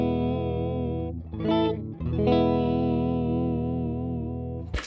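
Electric guitar played straight into an old 1964 Fender Deluxe tube amp with no pedal, sustained distorted chords ringing with a brief break and re-strike, ending in a short scrape.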